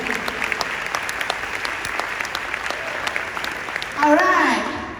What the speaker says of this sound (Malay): Satu tepukan lagi untuk Amway.